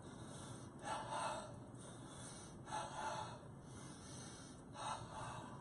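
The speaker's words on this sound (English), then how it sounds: "Double breathing, palms touching." Three rhythmic rounds of forceful nasal breaths during a double breathing exercise with palms touching, each a short double huff spaced about two seconds apart, close and fairly quiet.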